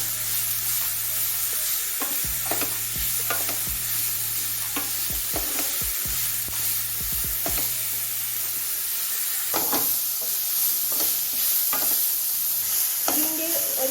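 Papaya sautéed in a pan for a thoracic-style stir fry, a steady sizzle and hiss running throughout with repeated scraping, clattering strokes of a spoon stirring the pieces, close and fairly loud.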